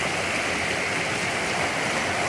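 Water rushes in a continuous broadband roar from a stream near a waterfall, steady and fairly loud throughout with no voices.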